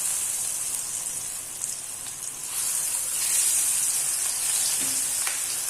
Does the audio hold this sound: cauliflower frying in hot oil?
yes